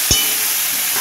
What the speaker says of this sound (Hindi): अब मैं देख रही हूँ मेरे आलू और कटहल दोनों फ्राई हो चुके हैं।